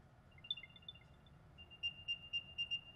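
An Apple AirTag plays its chime through its built-in speaker: a faint, high, tinkling run of tones followed by a repeated pulsing series of brighter beeps, heard alone.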